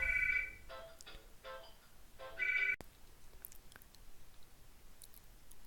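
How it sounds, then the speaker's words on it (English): A landline telephone rings in a quiet room, two bursts of its electronic trill close together early on, then stopping, leaving a faint hush with small clicks. "just pause until the landline stopped ringing."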